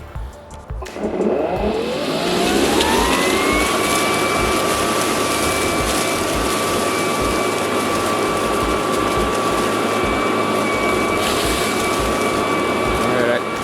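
Ryobi 40V electric leaf blower running on high power outdoors during fall cleanup, a loud steady whine and rushing air that ramps up in the first second and then holds constant, with a person's voice occasionally audible underneath.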